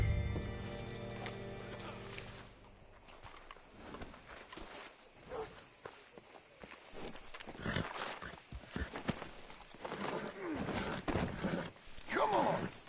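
Horse hooves clip-clop at a walking pace in a PS4 video game, with occasional whinnies, mixed under character dialogue and background game ambience.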